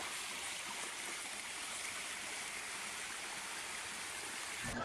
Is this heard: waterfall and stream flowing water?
yes